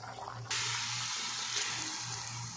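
Water from boiled rice being poured off for anda chawal, a steady rushing splash that starts abruptly and keeps flowing close by, with no talk.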